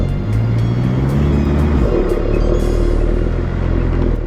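A 4WD pushes through soft sand on lowered tyre pressures near Ngkala Rocks on Fraser Island (K'gari), its engine a loud, close, continuous drone with a rising rev early on and steady rumble throughout.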